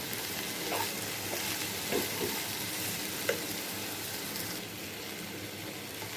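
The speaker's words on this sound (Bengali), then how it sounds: "এখন মিডিয়াম টু লো আছে আমি এটা ভাজতে থাকবো।" Okra frying in a pan over medium-low heat, a soft continuous sizzle with occasional light clicks as it is stirred, close and steady with no talking.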